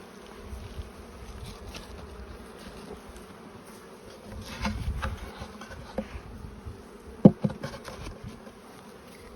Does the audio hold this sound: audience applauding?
no